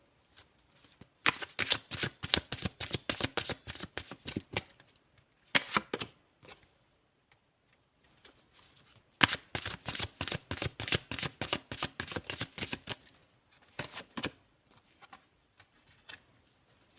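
Tarot cards being shuffled by hand, two long bursts of rapid riffling flutters separated by pauses, close and crisp, with a few short fumbles at the end, no talk.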